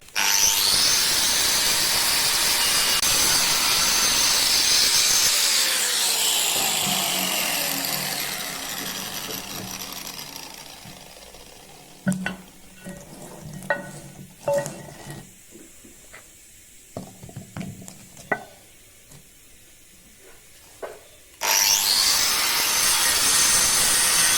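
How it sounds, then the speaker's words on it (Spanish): A power saw cuts along the outline of a stone sculpture, grinding loud and steady for about ten seconds before fading. A quieter stretch follows with scattered knocks and scrapes, then the harsh cutting roar resumes at full strength near the end. "ahora voy a proceder a cortar todo el contorno de la escultura"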